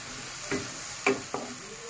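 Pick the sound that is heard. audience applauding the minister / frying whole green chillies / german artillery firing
frying whole green chillies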